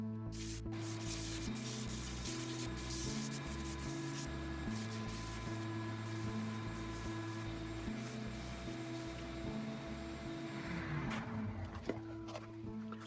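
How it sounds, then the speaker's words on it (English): Coarse-to-fine sandpaper rubbed around the inside of a small wooden bowl on a lathe, a steady close scratching that runs throughout over a constant low hum of the spinning lathe. "now I'm going to start sanding the inside, once again, with the coarse,"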